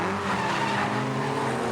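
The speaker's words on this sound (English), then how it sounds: "They're working hard on the brakes at the hairpin." BMW E30 race cars brake hard into the hairpin at Pukekohe during a historic racing meeting, engines roaring loud and steady with a hint of tyre scrub throughout.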